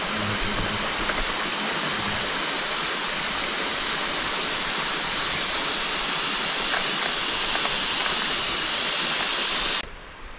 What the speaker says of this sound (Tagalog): Tapos lagaslas ng ilog.